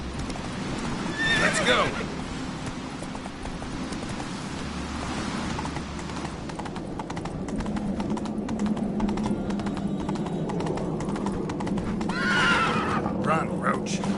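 A horse in The Witcher 3 whinnies twice, loud and close, over steady hoof clip-clop and ambient rain-like noise, while voices speak intermittently.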